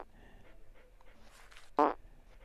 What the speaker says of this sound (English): It'll just play the fart sound.